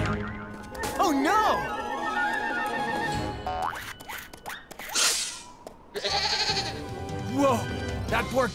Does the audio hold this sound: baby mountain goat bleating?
yes